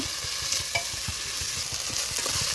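Onions sauté for a prawn biryani, giving a close, steady sizzle with rhythmic scraping and stirring strokes in the pan.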